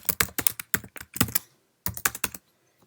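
Quick keystrokes clatter on a Mac computer keyboard close by, a fast burst of typing, a brief pause, then a few more taps.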